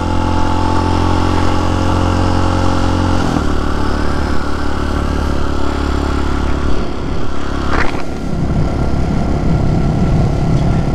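TaoTao TBR7 dirt bike engine runs steadily during a night ride, a close, loud droning hum with a brief rise in pitch partway through; no talking.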